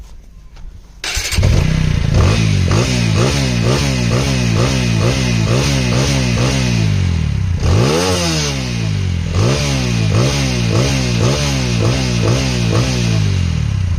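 A motorcycle engine being flushed with diesel starts up and then runs in neutral, a loud, steady, chugging idle with one brief rev partway through.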